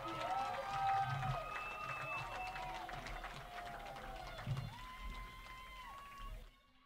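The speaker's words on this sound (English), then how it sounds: "make some noise, big round of applause for our Beats by Jags" Crowd noise with cheering and applause at a high school girls' soccer halftime in Ankeny, with whistles and shouts layered over a loud, steady din that drops off abruptly at the end.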